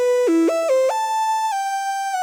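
A Serum synth lead plays a short melodic run, its pitch sliding smoothly between notes rather than jumping, bright and buzzy with rich harmonics, sustained and alone.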